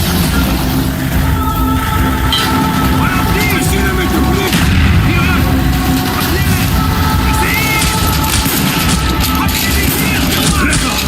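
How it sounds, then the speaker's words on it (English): Heavy incoming mortar fire in Call of Duty: Black Ops, a sustained barrage of booming impacts and crackling gunfire that stays loud throughout, with voices shouting over the din. "Mortar inbound!"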